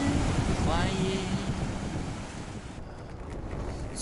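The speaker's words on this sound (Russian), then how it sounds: "Очень сильно бушует ветер." Strong gusty wind roars and buffets the microphone during a mountain storm on the northern route up Elbrus, loud at first and easing slightly, with a brief whistling tone and faint voices underneath.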